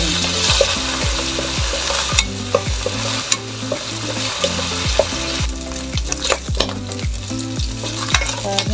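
Oil sizzles steadily in a pan as food is sautéed for a budget Filipino ulam, with a spatula scraping and stirring in a regular rhythm of sharp, close metallic clacks.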